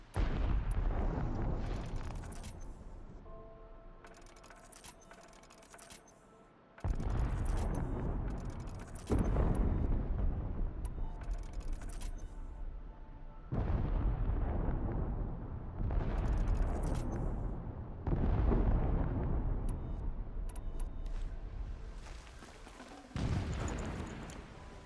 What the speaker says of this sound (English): Explosions in the distance.